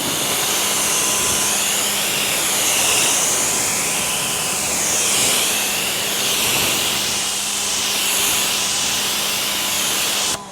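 Water spray rinsing a car during detailing, a loud, continuous close hiss of pressurized spray lasting the whole stretch, with slight swells as the stream moves across the body.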